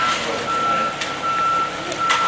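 A concrete truck reverses at a construction site, its high reversing alarm beeping in a regular, evenly spaced rhythm over a low engine drone, with faint clanks in the background.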